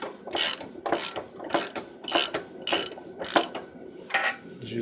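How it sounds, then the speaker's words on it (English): A hand ratchet turning a bolt on the lower control arm of a Chevy/GMC Tahoe or Suburban K1500/K2500, with seven or eight evenly spaced bursts of rapid clicking, close and clear with no talking. "As I ratchet the bolt, if I was using an impact gun, it'd probably come out quick."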